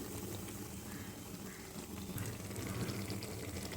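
Mango and ginger pickle simmers gently in a pan on a stovetop, giving off a soft, steady bubbling and faint sizzle that stays quiet and even throughout.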